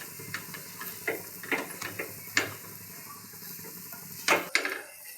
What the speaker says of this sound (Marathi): आता पिठलं छान घोटून घ्यायचं आहे, गाठी नाही झाल्या पाहिजे.